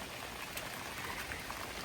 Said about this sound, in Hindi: आज सुबह से बारिश हो रही है यार, सुबह से बारिश हो रही है